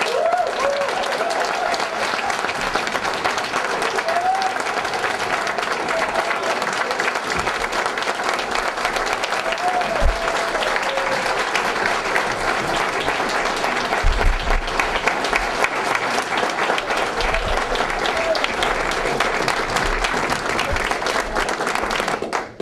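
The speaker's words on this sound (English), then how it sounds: "let's give our Eagle Scouts a big round of applause" Audience applause at an Eagle Scout Court of Honor ceremony for newly honored Eagle Scouts, a steady, dense wash of clapping from a crowd lasting over twenty seconds, with faint voices mixed in.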